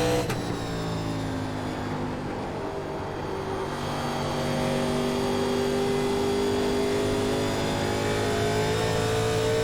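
Several 1987 Legends NASCAR stock car engines roar around Rockingham in the iRacing sim, a sustained droning whine with rising pitch as the cars accelerate, loud and continuous with no talk over it.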